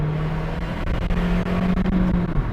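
A Skoda Octavia 1.5 TSI engine holds a loud steady drone close by, revved to just under 4000 rpm before the clutch drops for a launch from standstill, with no speech.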